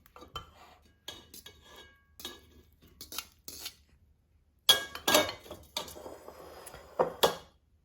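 Salted smashed cucumbers for a garlicky Chinese salad go into a bowl, with close, clinking knocks of a utensil against the dish in uneven bursts and a denser clatter near the end.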